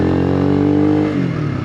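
Honda CBR125 motorcycle with an upgraded exhaust accelerating hard through the gears, a loud close steady engine drone rising in pitch and then dropping as the next gear engages, with no talking.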